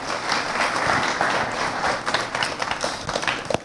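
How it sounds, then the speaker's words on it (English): Audience applause in a church service, loud and continuous clapping from a congregation that thins slightly toward the end, with no talk over it. "Can we give him another round of applause?"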